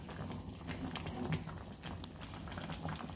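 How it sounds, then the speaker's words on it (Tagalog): A pot of mung beans boiling steadily, a soft continuous churn of low gurgles with occasional louder pops, close by. "Kumukulo ang ating munggo."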